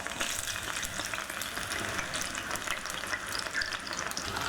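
Chili paste frying in hot vegetable oil, a dense, steady sizzle and spatter heard close up with some stirring noise.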